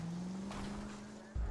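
A car chase in L.A. Noire, with a steady engine drone and a sustained tire squeal running through the clip, then a sudden thump near the end.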